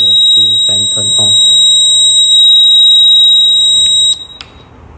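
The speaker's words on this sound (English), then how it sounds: "When the temperature exceeds 29 degrees Celsius, the subsystem enters the high temperature mode and the red LED and buzzer cooling fan turn on." Electronic buzzer on a temperature-monitoring subsystem in high temperature mode gives a loud, steady high-pitched tone for about four seconds before cutting off, with a few brief low sounds at the start.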